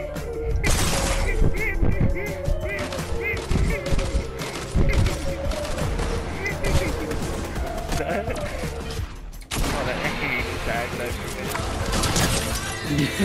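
Dense video-game combat with rocket blasts, shattering impacts and rapid gunfire, loud and continuous with a brief drop near the end, while voices shout excitedly over it.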